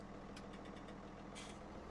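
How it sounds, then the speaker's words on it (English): A small tractor engine idles in Farming Simulator 17, a low steady rumble with a fixed throb, heard close and alone, with a few faint brief clicks and hisses over it. "Got our smaller tractor here."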